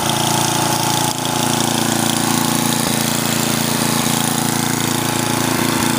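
A Husqvarna snowblower's small gasoline engine, freshly carburetor-adjusted, runs at a steady loud close drone with a rough, even mechanical throb and no pauses.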